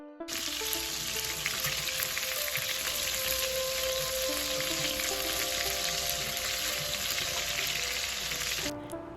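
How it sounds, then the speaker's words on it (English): Large meatballs searing in bacon grease in a pan, giving a loud, continuous close-up sizzle and crackle that holds steady throughout. "Now I'm just cooking these enough so I get a nice sear on both sides of the meatball"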